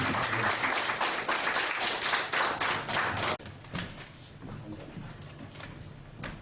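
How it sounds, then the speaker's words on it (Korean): Audience applause at a ceremony installing a new president of a Vietnam War veterans' association, a dense burst of clapping for about three seconds that cuts off abruptly into quieter scattered claps and room noise. "박수로 맞아주십시오."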